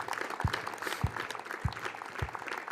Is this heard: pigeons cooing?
no